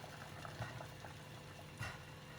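Water at a rolling boil in a pan with Roma tomatoes and whole garlic cloves, a steady dense bubbling with a few louder pops breaking through, close by and continuous.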